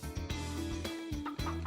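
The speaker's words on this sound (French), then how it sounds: "La poule." A hen clucks in a run of close, loud, throaty calls, one after another with brief gaps between them.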